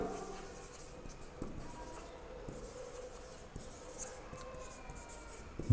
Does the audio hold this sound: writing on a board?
yes